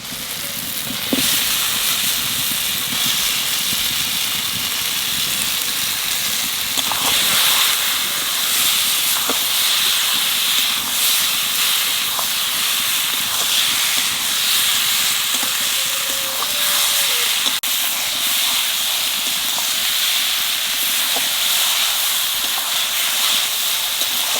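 Potatoes sautéing with spice paste in a pan for an aloo begun dish, a steady close hiss and sizzle with occasional stirring scrapes throughout, no talking.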